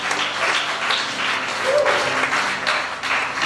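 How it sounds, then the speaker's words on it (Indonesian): Steady applause from a crowd of guests at a wedding ceremony, close and full, holding at an even level without pause. "Mari kita beri tepuk tangan."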